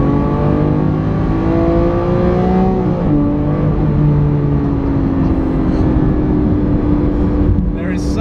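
A Lamborghini Aventador SV's naturally aspirated V12 revs loudly and close by, its pitch climbing and falling through several rising sweeps, with someone speaking over the engine.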